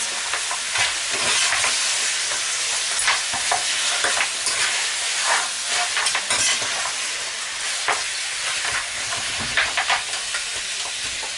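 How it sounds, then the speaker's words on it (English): Pieces of curry goat meat sizzling and frying in a pot, with a steady broad hiss and intermittent louder crackles and scraping bursts as the meat is stirred and turned, close and continuous with no talking. "Now I'm just going to turn my meat"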